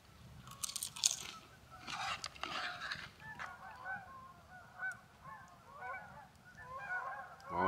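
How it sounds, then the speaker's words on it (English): Geese honk in the distance at a cold overnight campsite, several faint calls repeating irregularly over a low background rumble. "There's been some geese flying around. You might be able to hear them. One's honking off there in the distance somewhere."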